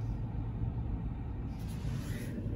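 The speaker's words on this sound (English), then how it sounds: "Some normal traffic." Steady road traffic on a downtown Phoenix street during the coronavirus lockdown, a continuous low rumble of cars and heavier vehicles, moderately distant and even throughout, with no voices.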